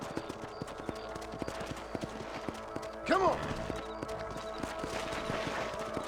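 Horse hooves clip-clop at a steady riding pace in Red Dead Redemption, with a short neigh midway and a man's brief speech over the hoofbeats.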